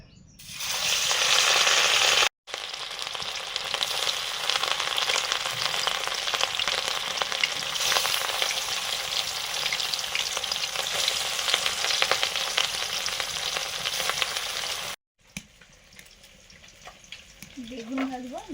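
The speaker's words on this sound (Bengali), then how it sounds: "মাছ ভাজা শুরু করছি।" Rui fish pieces coated in spice frying in hot mustard oil, a loud steady sizzle and crackle that runs nearly the whole time, with a brief gap at the start and a quieter stretch near the end.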